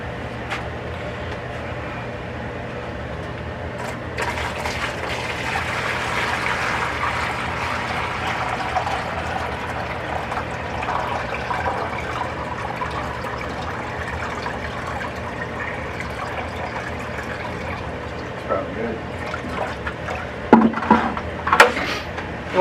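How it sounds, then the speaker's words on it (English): Water being poured into the reservoir container of an indoor garden system, a steady faint splashing and rushing stream lasting most of the time, with a few louder clunks near the end. "So you want to go ahead and dump water in?"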